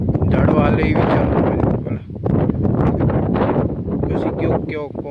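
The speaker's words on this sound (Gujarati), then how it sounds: "રેડી ઉપર અત્યારે ફૂલ ઠંડો પવન વહી છે" Strong, cool wind buffets the microphone over a farm beside a water tank, a loud continuous rumble with gusty swells, heard alone without talk.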